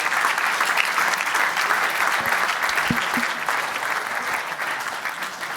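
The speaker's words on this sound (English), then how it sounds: "Please welcome them with a round of applause too." A conference audience applauds as panelists walk on stage to discuss a fund-of-funds, steady clapping filling the room throughout without a break.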